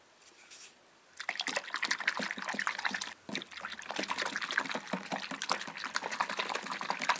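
Dish soap being mixed into water, a steady busy sloshing and trickling of liquid that starts after a brief quiet second and continues with a short dip midway.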